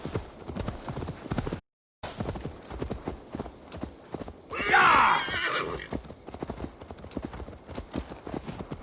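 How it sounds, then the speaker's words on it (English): A horse in the video game Assassin's Creed Valhalla trots with rhythmic hoof clip-clops, then lets out a loud, shrill neigh midway before the hoofbeats continue, with a brief gap of silence early on. "Come here, horse, quit running around in a circle."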